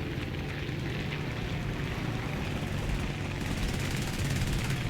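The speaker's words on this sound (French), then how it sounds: "Il y a un avion." A steady broadband roar of an aircraft passing in a tank video game, continuous and fairly loud, dominating the mix without speech.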